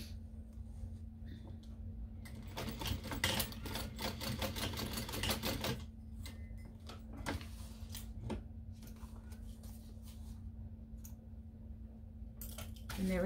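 Sewing machine basting a pocket piece for a small mini backpack, stitching in several bursts of running needle rattle, close and moderately loud, with pauses and small handling clicks between runs.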